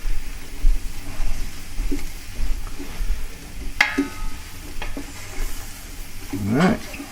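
Butter browning in a pan while collards cook, a steady sizzle punctuated by a few sharp metallic clanks and a scraping stir near the end, loud and close with no talking.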